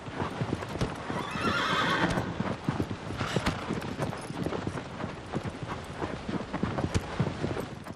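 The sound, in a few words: horse hooves stamping in a video game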